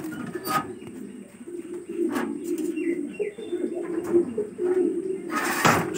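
Black Satinette pigeons coo in a loft, a steady low murmuring drone with occasional sharper chirps and a brief burst of wing flapping near the end.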